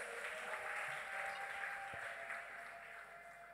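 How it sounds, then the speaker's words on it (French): Church congregation clapping during a worship service, a steady wash of many hands applauding together, fairly distant and even throughout, with no talking. "Clap for le Seigneur."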